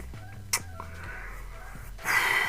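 Chickens in a Minecraft survival farm give a few short, clucking calls in quick succession, fairly close and moderately loud, with a brighter burst of game noise near the end.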